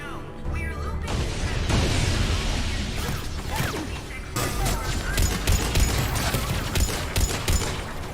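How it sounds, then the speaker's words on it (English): Sustained gunfire from C-Sec security forces in the Mass Effect video game, rapid bursts of shots and mechanical clatter with crashes, a voice talking over the din throughout. "The gunfire behind me is C-Sec trying to"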